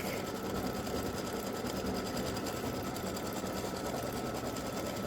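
An embroidery machine stitches freestanding lace butterfly earrings, a continuous fast mechanical whirring hum with steady rapid needle chatter, close and unbroken throughout, with no voices.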